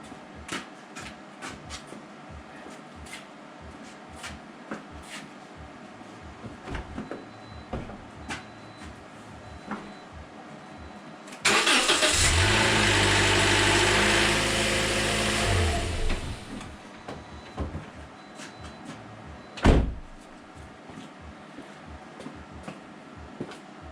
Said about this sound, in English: I'm just gonna crank on my engine.